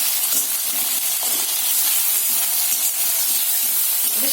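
An onion and tomato spice paste fries in a pan for a Bengali fish dish, giving off a steady, close hiss and sizzle. The bright spattering noise runs on evenly and alone.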